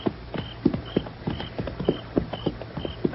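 Horse hooves clip-clop at a steady walking pace in an old Gunsmoke-style radio drama, with even, moderately close hoofbeats under a faint background hum.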